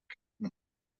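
Two short duck quacks, a brief thin one followed by a fuller, louder one, each alone against silence.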